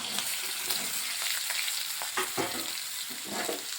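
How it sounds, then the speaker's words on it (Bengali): Chopped potato, eggplant and mixed vegetables fry in oil with green chillies, giving a steady close sizzle, with short scraping bursts as the pan is stirred. "কাঁচা লঙ্কাটা দিয়ে এখন আমি এখানে সবজিটাকে একটু ভেজে নিচ্ছি।"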